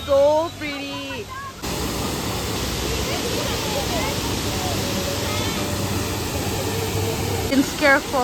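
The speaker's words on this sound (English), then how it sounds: "This is a waterfall." Lyngksiar Falls in Meghalaya roars as a steady, dense waterfall rush from up close, with a brief voice at the very start and more talk near the end.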